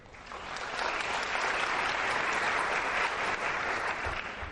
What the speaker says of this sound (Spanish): un aplauso para los visitantes